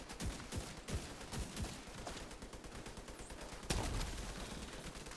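Gunfire crackles in The Division 2 as dense bursts of rapid shots, steady and fairly close, with a sharper loud burst near the end.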